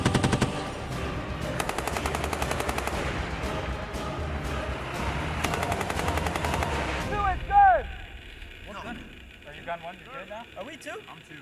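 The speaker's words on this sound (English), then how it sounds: "We actually put together a convoy of 5 MTVRs with mounted machine guns, and they were able to move and shoot while working convoy actions." Mounted machine guns on a convoy of MTVR military trucks fire in rapid, continuous bursts for about seven seconds during a Marine training exercise, loud and close, before the gunfire stops and only quieter ambient noise remains.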